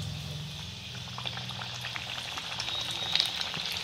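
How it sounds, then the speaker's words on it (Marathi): Methi puri fries in hot oil, a steady soft bubbling and sizzling that continues close and evenly throughout, with a few small crackles and no talking. "आता आपण एक एक पुरी यामध्ये सोडून घेऊया।"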